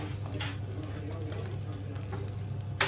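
Steak and vegetable stir fry sizzling in a pan, a soft, steady frying hiss with faint pops and the occasional scrape of stirring.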